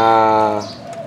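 A wild dove used as a decoy for bird trapping gives a deep, resonant coo close by, a single sustained call fading into a softer trailing note against faint outdoor background.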